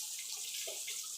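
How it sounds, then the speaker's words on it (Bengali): A potato sizzles steadily in hot oil in a home kitchen, with a continuous close frying hiss and no talking. "আলুটা লাল লাল করে ভেজে নেব।"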